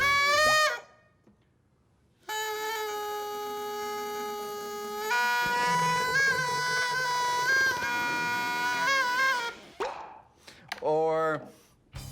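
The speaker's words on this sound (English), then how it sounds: "I like this one. I call it the loud bubble." A loud bubble blown through a household object with dish soap and water, giving sustained buzzing, harmonic-rich tones that shift pitch over several seconds, with short bursts before and after.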